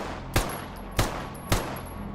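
Three sharp, loud shots from a Fort pistol in the video game G.A.M.M.A., evenly spaced about half a second apart, each a crisp crack over a low steady background hum.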